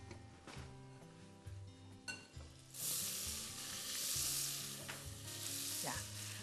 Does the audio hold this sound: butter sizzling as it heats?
yes